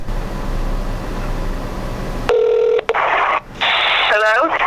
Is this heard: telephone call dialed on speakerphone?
yes